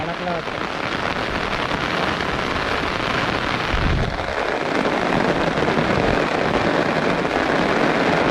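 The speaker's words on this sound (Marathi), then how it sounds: "पाऊस वाढला ना त्यामुळे" Heavy rain pours down at a lake, a steady dense hiss of drops striking the surface that runs unbroken throughout, close and loud, with faint voices partly buried beneath it.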